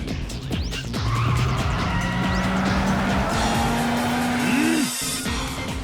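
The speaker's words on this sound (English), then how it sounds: "Fiery drift." Car drifting around a corner in Yakuza 5, a long tire squeal sliding upward in pitch over a steady engine drone and clatter, ending in an abrupt cutoff.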